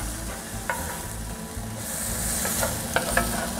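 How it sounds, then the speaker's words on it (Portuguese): Onions sizzle in a pot for steak with onions after a splash of vinegar, while a utensil stirs and scrapes the bottom in short, irregular strokes close by. "Dá aquela desgrudada no fundo da panela. A gente já vem aqui mexendo."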